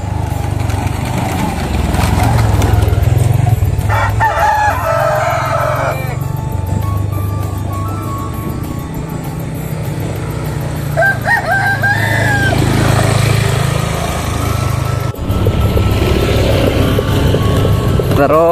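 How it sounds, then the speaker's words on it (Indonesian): Rooster crowing with village chickens clucking in a hillside village on the Blora–Rembang border, several crows rising over a steady low engine-like hum and outdoor bustle. "Jadi ayam-ayam dari warga kalau sudah waktunya sore nanti pulang sendiri ke rumah."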